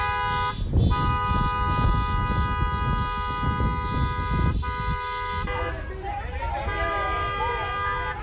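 Car horns honk and toot in long sustained overlapping blasts from a huge Latinos for Trump car parade of about 30,000 cars in Miami, loud and continuous throughout with crowd noise beneath.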